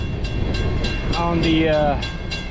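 A train rolls past on the rails with rhythmic clicking wheel beats, and a long horn note swells loudly in the middle before fading as the cars keep rumbling by.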